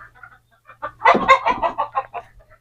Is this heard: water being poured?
no